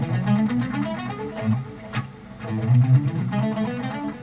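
Bowed string notes run through a melodic minor scale in a Schradieck exercise, each note double picked, giving a steady repeated-note rhythm, close and fairly loud, with a short break partway through.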